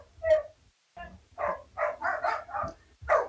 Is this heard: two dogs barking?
yes